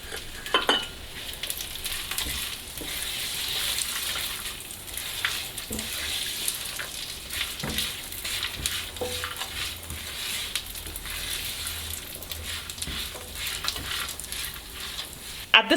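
Raisins, coconut chips and nuts sizzle softly in a pan for corn flakes chivda, a steady moderate frying hiss with occasional light stirring clicks and scrapes, close and without talk.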